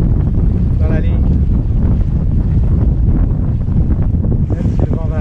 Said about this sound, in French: Là, le vent varie.